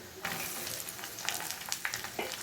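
Chopped carrots hit a pan of frying garlic and ginger, and the sizzle flares up, followed by close scraping stirs and crackling pops.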